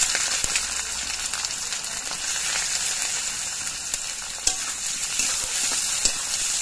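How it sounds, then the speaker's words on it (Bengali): Sliced onions fry in hot oil with whole garam masala, a dense, continuous sizzle with occasional scraping knocks as they are stirred in the pan. "পেঁয়াজটা নাড়াচাড়া করে কিছুক্ষণ ভেজে নিতে হবে।"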